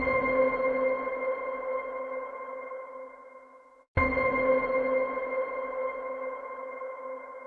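Two sonar pings from the Ava Instinct sound library, each a sharp electronic ping with a long, ringing tonal tail that slowly fades, the second arriving about four seconds after the first.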